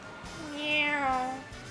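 A voice imitates a cat with a single drawn-out meow that rises and then falls, close and fairly clear, lasting about a second over a quiet background.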